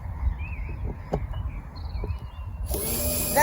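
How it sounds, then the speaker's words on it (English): A new power drill bores into wood while a raised garden bed is built on an allotment; the motor whirs up loudly near the end after quiet outdoor background. "That new drill was Grinch early birthday present"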